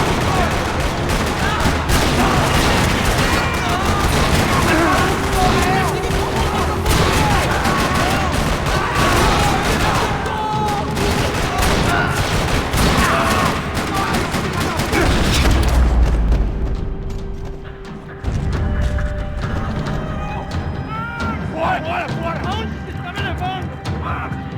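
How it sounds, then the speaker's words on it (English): Dense gunfire in a parking lot in the video game Max Payne 3, loud rapid bursts and booms filling most of the stretch before thinning into scattered shots, with voices speaking over the fighting. "Another parking lot rattling with gunfire."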